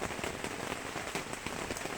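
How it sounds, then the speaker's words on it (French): Rain falling at a carp fishing pond, a dense, steady patter of drops striking a surface nearby, continuous and even with no voices. "je vais attendre qu'il arrête de pleuvoir et qu'il fasse un peu plus jour"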